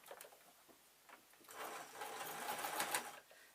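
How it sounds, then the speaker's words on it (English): A sewing machine stitches the fleece lining of a slipper, faint and close, with a few soft ticks before settling into a steady whirring run for the last two seconds. "We're now sewing the lining."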